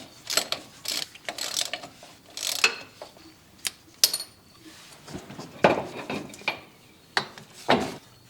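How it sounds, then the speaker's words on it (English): An oxygen sensor wrench ratchets and clanks while it removes the oxygen sensors from a Jeep 4.0L exhaust near the catalytic converter. Close metallic clicks and scrapes come in irregular bursts with short pauses between them. "Now we'll remove the oxygen sensors with an oxygen sensor wrench."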